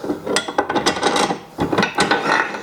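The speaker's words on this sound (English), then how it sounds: "Now let's slide the clamps on." Clamps slid onto the fence of a metal-cutting mitre saw, a close run of scraping, rasping slides and small clicks in two bursts, loud and alone.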